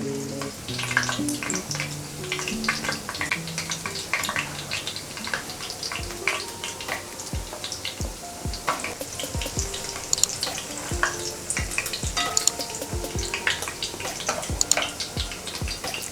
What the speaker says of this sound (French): Et ensuite vous trempez ça dans l'huile.